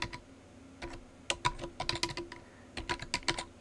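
Someone types an email address on a computer keyboard, a quick irregular run of close, crisp key clicks in short bursts with brief pauses between them and no talk.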